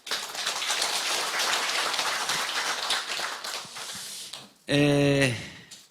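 A crowd of residents at an open town dialogue with the mayor claps continuously for several seconds in a dense patter. A short burst of loud music follows the clapping.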